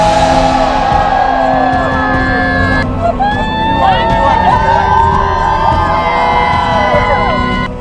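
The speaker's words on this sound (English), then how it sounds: "Spirits were high as impromptu chants were composed to cheer each other on" Students at a youth science forum's Forum Olympics cheer, shout and chant together in a loud, dense crowd, with whoops and overlapping voices filling the space throughout.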